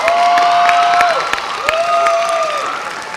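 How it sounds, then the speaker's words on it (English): An audience gives a short round of applause at a local singing competition, with crowd clapping and some cheering mixed with a sustained tone, fading slightly toward the end. "That deserves a round of applause from the audience again."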